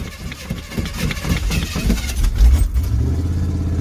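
A Chevy project truck's engine running close by, with a rough, pulsing idle that swells into a louder rev midway and then settles into a steady drone.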